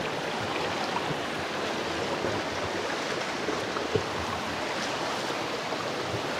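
Strong spring water flowing steadily over large rocks into small pools along a river in Alfonso, Cavite, a continuous close rushing wash with no talk.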